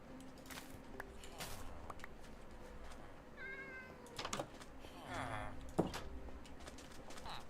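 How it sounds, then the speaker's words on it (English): Cat meows in Minecraft, a few short calls over a quiet game backdrop with bird chirps and footsteps, while a person talks over it. "Oh, kitty."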